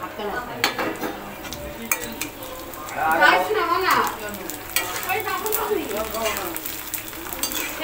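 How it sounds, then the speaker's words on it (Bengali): Papad fries in a pan with a crackling sizzle and some scraping of a utensil against the pan, while voices talk briefly over it in the middle. "হয়ে গেছে পাঁপড় ভাজা।"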